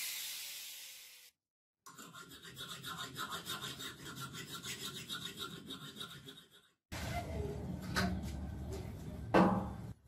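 A hand file rasps over cement-covered metal in steady back-and-forth strokes, close and fairly quiet, starting after a short pause, then giving way to a louder scraping, knocking passage toward the end.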